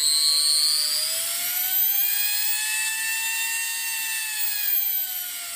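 A newly delivered porting machine runs at maximum speed, giving a loud, steady high-pitched whine whose pitch rises and then settles, heard alone without talk.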